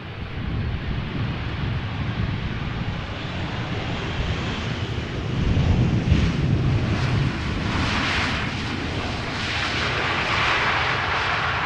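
An airliner on the London Heathrow to Amsterdam route passes Schiphol with a steady jet roar and deep rumble that swells around the middle, then settles into an even, hissing drone.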